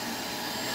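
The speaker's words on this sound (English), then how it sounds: "why are you operating this noisy vacuum out here? Clearly a shop vac." A shop vacuum runs outdoors by a house's front door, a loud, steady broadband whine and roar with no breaks.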